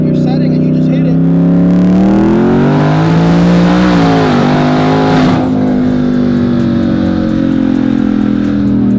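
Twin-turbo Ford Mustang of about 1600 hp accelerating hard in sport mode, its engine note climbing loud and close in a sustained rising roar before settling into a steady drone, with people talking over it.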